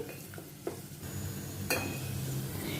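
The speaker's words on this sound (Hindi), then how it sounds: "तो प्याज को अच्छी तरह से मैं गोल्डन ब्राउन करूँगी।" Onions frying to golden brown in a pan on a home stove, a steady quiet sizzle with occasional stirring clinks from a spoon against the pan.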